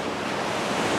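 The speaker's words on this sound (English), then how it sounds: "There's a lot of waves on this beach" Ocean surf at Windansea Beach in San Diego rolls as a dense, continuous roar of breaking water mixed with wind buffeting the microphone, loud and close.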